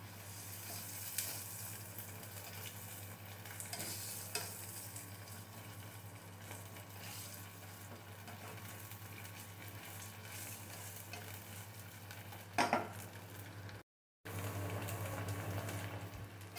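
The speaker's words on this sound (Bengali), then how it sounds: "আদাটা ভালো করে ভাজা ভাজা হয়ে গেছে।" Ginger-garlic paste and onion frying in a pan for beef liver bhuna give a steady, close broadband sizzle for the whole stretch, with one brief utensil clank and a short dropout near the end.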